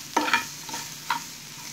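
A spatula scrapes twice through bitter gourd frying in masala in a pan, giving short distinct strokes over a soft, steady sizzle.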